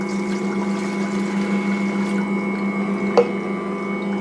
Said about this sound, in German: Erstmal niedrig, dann kommen die flüssigen Zutaten hinzu.